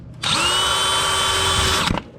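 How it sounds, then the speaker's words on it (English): Power drill boring a hole into the top side of a Jeep oil filter, a loud steady whine that spins up quickly, holds for about one and a half seconds, then stops, heard close up with no talking. "Now I'm gonna drill a hole in the top side"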